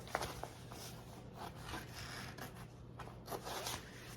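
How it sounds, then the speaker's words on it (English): Scissors snip through zipper overlay fabric for a tote bag, making soft rubbing, scraping cuts in a quiet, steady run from end to end, close and fairly faint. "So I just use my scissors and I go from end to end first."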